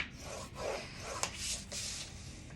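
A pointed scoring tool drags along thin paper in short, close scratchy strokes, with a soft rasping rub and one small tap partway through, quiet and alone.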